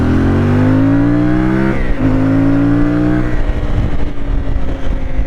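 A CF Moto 450 MT motorcycle engine hums steadily and loudly up close on an off-road test ride, its pitch rising slightly, dipping, rising again and then settling into a rougher, throatier drone.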